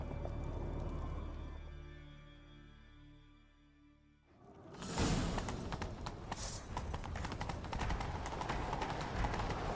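Hooves clatter in a fast, heavy rhythm as horses gallop, starting abruptly after a quieter musical passage and continuing loudly.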